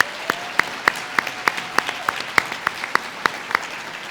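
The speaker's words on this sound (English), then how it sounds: "Let's give ourselves a round of applause in recognition of your work in libraries." A round of applause at the Michigan Library Awards Ceremony, heard as sparse, evenly spaced sharp claps, close and distinct rather than a dense crowd roar, repeating roughly every third of a second.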